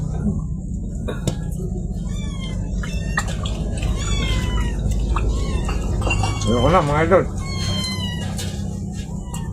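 A cat meows a few times, one drawn-out wavering meow standing out, while people talk nearby over a steady background hum.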